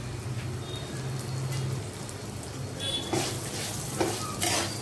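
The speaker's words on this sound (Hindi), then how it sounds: "इसमें काजू बादाम जो रखे हुए हैं वो डाल देंगे, थोड़े से भूनेंगे" Cashews, almonds and dried coconut roast in a pan for chivda, a soft continuous sizzle and crackle with occasional scraping and clinks of a spoon stirring, heard up close.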